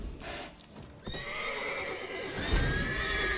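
A horse neighs and whinnies in The Witcher 3: Wild Hunt near a guarded barn, a loud drawn-out call over game ambience with hooves shuffling.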